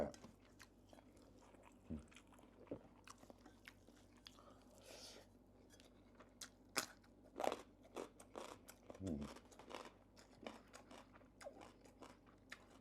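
Crispy food is chewed up close, with irregular sharp crunches and bites that build into a denser cluster of loud crunching midway, then continue at a slower pace.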